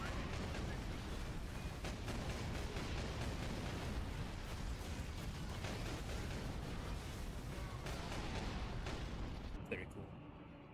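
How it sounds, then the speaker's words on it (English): Dense, rumbling booms of heavy cannon fire pound continuously in a loud, chaotic battle in the video game Warhammer 40,000: Space Marine, with a voice faintly under the noise. "Just hit that guy with the cannon."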